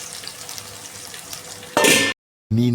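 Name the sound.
frying curry leaves and masala in hot oil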